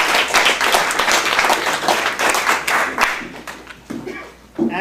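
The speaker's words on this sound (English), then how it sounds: "Please give them a big round of applause too." A hall audience applauds the Green Cross staff, with vigorous, many-handed clapping that is loud and close at first and then thins to a few scattered claps and a last burst.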